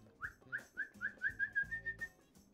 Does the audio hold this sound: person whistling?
yes